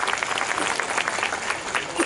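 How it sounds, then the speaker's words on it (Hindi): A crowd at a political gathering for Akhilesh Yadav claps loudly in welcome: dense, continuous applause throughout, with voices mixed in beneath it. "हमन जोरदार ताली बजा के स्वागत कराई"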